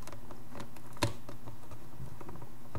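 Plastic foil torn and pulled off the packaging of a Microsoft Sidewinder X8 gaming mouse crackles in quick light patters, with one sharp louder rip near the middle, close up and with no voices.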